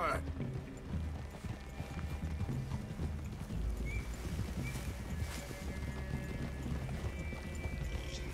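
Horse hooves clip-clopping in the Red Dead Redemption II video game, a steady walking rhythm of hoof falls on the ground, with voices talking over them throughout.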